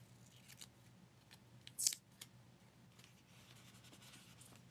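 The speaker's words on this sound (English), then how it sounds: "cut off some of this offset." Scissors snip through paper offset in a craft journal, one quick crisp cut among faint rustling and scratching in a quiet room.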